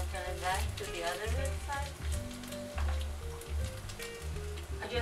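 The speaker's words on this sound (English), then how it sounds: "I just want to fry the side too." Beef cutlets sizzle and spatter in a frying pan, a soft crackling fry running steadily beneath a person talking throughout.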